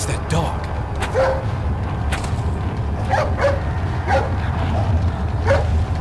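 Dogs barking in the video game Resident Evil 4, a string of short yips and barks repeating roughly every second over a constant game background rumble.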